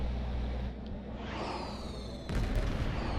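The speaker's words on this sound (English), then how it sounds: "Fireworks!" Fireworks in the video game Star Trek Online: muffled booms and crackling bursts, a softer stretch followed by a louder burst near the end, fairly quiet overall.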